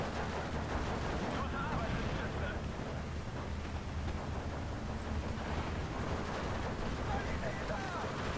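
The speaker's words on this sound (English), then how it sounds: "And now our MG is starting to open fire on them." Machine gun fire in the WWII strategy game Steel Division 2, dense and continuous distant rattling bursts blending with rumbling battle noise throughout, with a voice talking over it.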